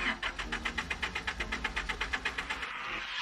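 An old carburetor car engine cranks over repeatedly without catching, a steady rapid rhythmic chugging of the starter at close range, with no voices.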